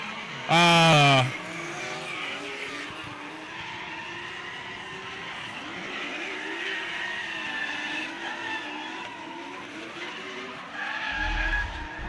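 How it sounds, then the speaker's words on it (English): A drift car at an Australian Drift Club F8 Drift Challenge round on track, its tyres squealing and skidding in a long, continuous screech, with a brief louder burst near the start and a commentator talking over it. "those tyres sound terrible"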